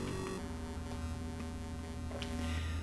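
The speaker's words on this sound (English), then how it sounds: "it's just this constant, annoying white noise drowning" The Qix arcade video game plays a constant, harsh droning hiss, steady and loud from start to finish, with faint electronic tones inside the noise.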